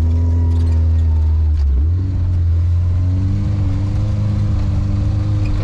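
A Nissan Patrol on 30x9.5x15 BAB Cross tyres climbs a steep slope, its engine a loud, steady, close drone that dips briefly in pitch and then settles back into a strained hum.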